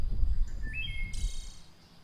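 Birds, including a finch, a raven and a kestrel, give a few short chirps and high whistled calls over a low background rumble that fades out toward the end.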